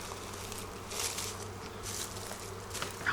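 Carniolan honey bees buzz around an opened hive, a dense, close swarm hum that swells and fades in waves with occasional louder passes near the ear.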